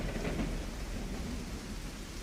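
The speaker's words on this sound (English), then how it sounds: "Noah's family listened as the rain battered the ark without letting." Heavy rain and thunder from a storm pounding a large wooden ark, a dense continuous roar of downpour with low rumbling, loud and close throughout.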